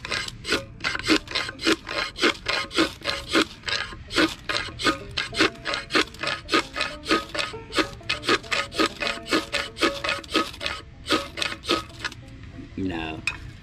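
A blade scrapes fine shavings from a piece of fatwood in quick repeated strokes, each a sharp raspy scrape in a steady close rhythm, ending with a brief rustle.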